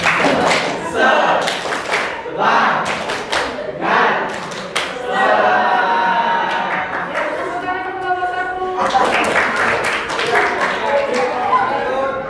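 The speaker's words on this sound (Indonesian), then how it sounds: "Tepuk semangat" A classroom of pupils performs the 'tepuk semangat' spirit clap routine, bursts of rhythmic group clapping alternating with chanted voices, close and loud throughout.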